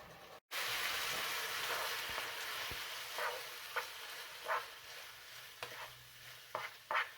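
A pan sauce seasoned with cayenne, salt and crushed black pepper simmers and reduces, a soft continuous sizzle with faint bubbling pops and occasional stirring scrapes, fairly quiet and close, with no talk.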